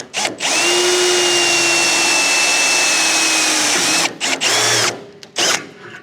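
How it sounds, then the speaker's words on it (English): Power drill boring square holes through metal to mount an awning on an Outback Tourer vehicle, a loud steady whine held for several seconds, then short bursts with brief pauses between. "Now, we want to make sure we're drilling square."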